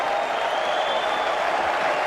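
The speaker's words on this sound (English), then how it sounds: "New Zealand faction of the crowd go wild." New Zealand supporters in a cricket crowd at a Test match cheer and applaud, a dense, steady roar of clapping and shouting that fills the space from start to finish.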